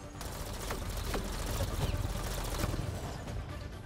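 Rapid bursts of gunfire in the Mass Effect Andromeda video game, a dense, steady clatter of shots with sharp cracks running throughout, loud and close with no talk over it.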